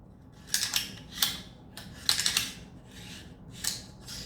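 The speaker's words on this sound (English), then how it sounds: "first thing goes in is your charging handle. This way, kind of about halfway." Metal parts of a Smith & Wesson M&P Sport II 5.56 rifle being handled as the charging handle slides in, giving a few close, short scraping and clicking bursts separated by brief pauses.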